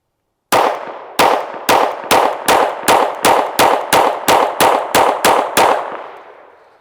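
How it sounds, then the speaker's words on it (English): Fifteen rapid pistol shots from a PSA Dagger Micro compact handgun, sharp loud reports in a steady quick rhythm, each with a short echoing tail that fades after the last round, no talking. "15 more rounds through the Micro Dagger"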